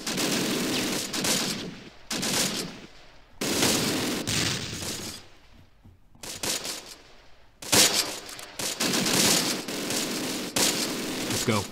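Tank cannon and machine-gun fire from a Panther in the WWII strategy game Close Combat, loud bursts of rattling gunfire broken by short quiet gaps, repeated across the stretch.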